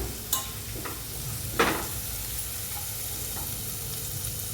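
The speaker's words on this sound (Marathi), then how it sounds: "मग घालून घेऊया मीठ धणे पावडर हे चांगलं असं परतूया" A steady hiss of salt and coriander powder frying in a hot pan, with a couple of brief scraping stirs near the start; no voices.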